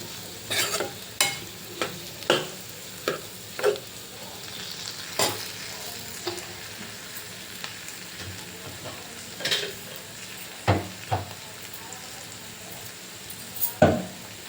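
Ingredients sizzle steadily in a hot pan, broken by a series of sharp scraping stirs at irregular intervals.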